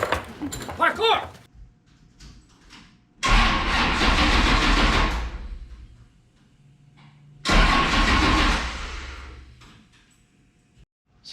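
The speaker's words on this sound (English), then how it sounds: "I'm gonna try and fire this thing up and see how it sounds" A 1971 Camaro with upgraded battery cables cranks and fires twice, each start becoming a loud, close engine roar that holds for a few seconds and then fades, with a brief voice at the start.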